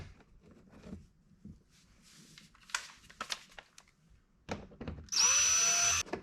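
Scattered clicks and rustles of handling lead into a power drill tightening bolts on a 2021 Ford Bronco, whirring loudly for about a second, its pitch rising as it runs, nearby.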